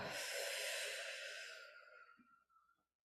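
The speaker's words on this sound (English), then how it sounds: "Inhaling, holding, and exhaling." A slow, guided exhale breathes out close and breathy, loud at first, then gradually tapering off into silence.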